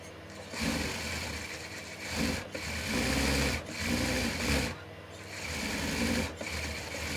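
A sewing machine stitches blouse fabric in several short, whirring runs separated by brief pauses, heard close and fairly loud.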